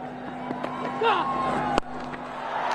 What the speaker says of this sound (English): And the crowd finally getting into it.